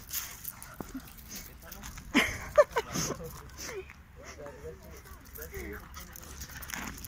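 Australian shepherd and husky puppies play together, giving small yips, whimpers and panting with scuffling paws, fairly faint and scattered under a person talking.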